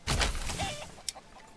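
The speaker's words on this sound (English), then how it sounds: "Let's do chickens, basic chickens." Chickens cluck in the Manor Lords medieval village-building game, a short close burst of clucking at the start followed by a faint squawk and soft background noise.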